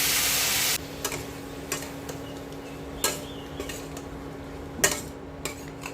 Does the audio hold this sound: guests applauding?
no